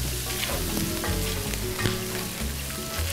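Bacon sizzling in olive oil in a paella pan, a continuous close crackling fry with small pops and a faint stirring scrape, alone with no voices.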